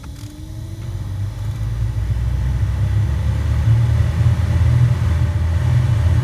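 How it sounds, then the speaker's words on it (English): A Suzuki Vitara's cabin vent blower fan runs at its lowest speed, giving a steady, low rumbling whir that holds continuously and grows slightly louder across the stretch, with no talking. "So that's the minimum blower speed right there."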